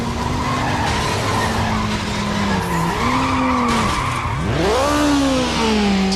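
Tires skid and squeal from a car in Need for Speed Underground on PS2, a loud sustained screech with bending tones and steady engine roar throughout, rising into a sharper swooping squeal near the end.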